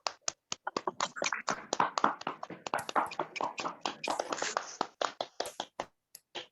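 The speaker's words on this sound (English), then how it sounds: "Give him a round of applause, guys." A crowd claps and cheers at a live grand finale event to welcome a sponsor on stage, a brisk run of sharp, uneven handclaps that swells and then thins out, with no talk over it.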